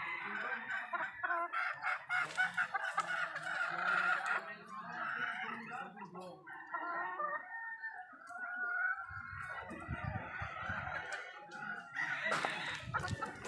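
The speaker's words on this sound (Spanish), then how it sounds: "Miren esta otra hermosa gallina, gallina joca motona." Several fighting-breed chickens cluck and crow close by, with overlapping calls and a rooster's crow rising near the end, busy farmyard noise throughout.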